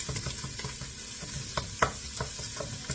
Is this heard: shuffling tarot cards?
no